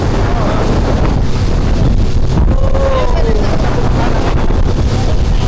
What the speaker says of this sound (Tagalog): Grabe! Lakas! Lakas ng alon!